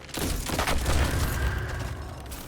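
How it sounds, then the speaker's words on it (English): Explosions from cursed thrall detonating in the video game Destiny 2, a dense burst of booming blasts with a rumbling low end that rolls on for a couple of seconds, loud and close amid battle noise. "the explosions from the cursed thrall down there helped me take out that champion"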